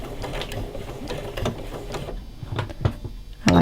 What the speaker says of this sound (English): I'm doing a little lock stitch here